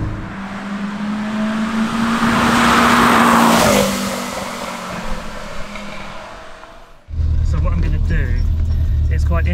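A loud Renault 5 Turbo 2 engine revs and holds a steady drone, then drops off; a low idling rumble continues afterward.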